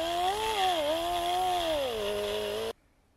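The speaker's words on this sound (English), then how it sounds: "I've moved on to the air operated die grinder because I've just got a better control over speed." An air-operated die grinder grinding an engine head gives a steady, close, high-pitched whine whose pitch wavers slightly as the load changes, then cuts off abruptly near the end.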